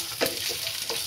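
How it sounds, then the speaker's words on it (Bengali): Peanuts, cashews and raisins fry in a pan with a soft, close sizzle, and a couple of quick stirring scrapes break through. "সবগুলো আমি ভালো করে একটু ভেজে নিব।"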